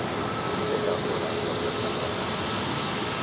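A Delta jet airliner taking off from runway 4 Left at JFK airport in New York produces a loud, steady, broadband engine roar that holds evenly throughout, with no speech.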